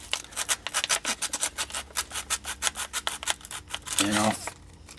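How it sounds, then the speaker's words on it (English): Sandpaper scrubs inside a 1968-1982 Corvette power window switch, cleaning its contacts with rapid, rhythmic back-and-forth rasping strokes, close and fairly loud, ending in a brief louder scrape. "I'll just take a little piece of sandpaper, I'll put it inside of here, I'll force it down"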